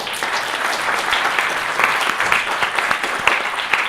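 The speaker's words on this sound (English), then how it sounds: "yes, let's hear applause." Steady applause from an audience at a strategic electrification policy forum, a dense continuous patter of many hands clapping fairly close and loud for the full length, with no speech over it.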